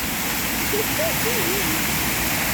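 A waterfall gives a steady, loud, full-bodied rushing roar that fills the scene without pause, with faint voices barely rising above it.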